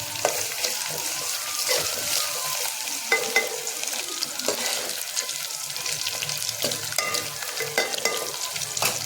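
Ginger frying in a pan, stirred steadily while it browns, with a constant bright sizzle and light scraping and clinking of the spoon against the pan throughout.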